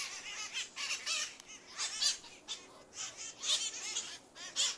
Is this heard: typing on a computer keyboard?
no